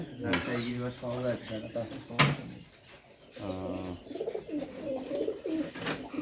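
Pigeons coo repeatedly at a pigeon farm, several throaty rolling calls close by, with a clatter of something metallic and someone speaking at times between the birds.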